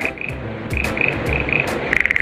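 Frogs croak in a steady, rhythmic chorus of short calls, with a faint background hum.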